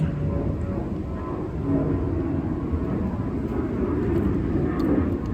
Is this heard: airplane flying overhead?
yes